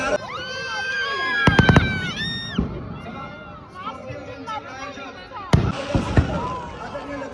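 Fireworks burst and crackle over a crowd celebrating the Maharashtra Kesari wrestling final in Wagholi, Pune, with sharp repeated bangs and whistling rockets amid cheering and someone talking.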